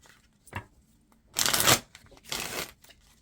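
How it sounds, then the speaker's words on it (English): Tarot cards shuffled by hand in two loud riffling bursts after a brief tap, close up, with quiet gaps between and no talk. "That wasn't a very good shuffle. Okay, 2 more shuffles."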